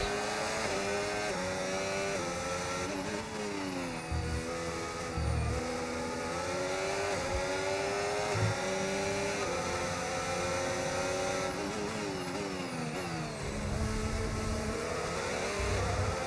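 F1 race car engines in the F1 25 racing video game, several high-pitched engine whines rising and falling through gear shifts as cars overtake, continuous and dense with no talk.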